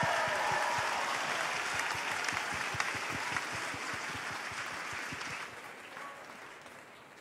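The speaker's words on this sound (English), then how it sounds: "Give a round of applause." Sustained audience applause at a school House Music competition, dense and steady clapping from a large crowd throughout, fading slightly toward the end with no talk over it.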